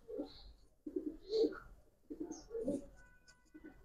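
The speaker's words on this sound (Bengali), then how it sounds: "অনেক সুন্দর একটা কবুতর ভাই" A male pigeon, a Giribaz racer with colouring, coos softly at close range in a few throaty rolling bursts separated by short pauses, faint and with no one speaking.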